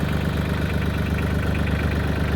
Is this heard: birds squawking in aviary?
no